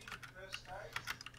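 A computer keyboard is being typed on during a game of Fortnite, with quiet, irregular clicks and taps coming in clusters under faint background noise and a little talk.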